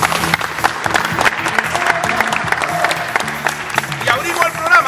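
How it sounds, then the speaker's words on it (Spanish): A studio audience on a television program gives sustained applause for circus clowns, with many hands clapping together and voices audible underneath. "le damos un aplauso a los payasos del circo"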